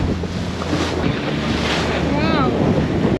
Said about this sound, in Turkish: Şu adet dalgalar.